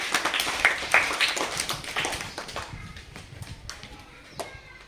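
Primary-school children burst into brisk group applause in a classroom. The clapping is loud and dense at first, then thins out into scattered claps that fade toward the end.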